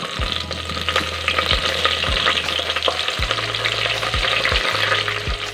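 Curry leaves fry in hot oil with fennel seeds, a bright, steady sizzle crackling up close while a utensil clinks and scrapes against the pan now and then.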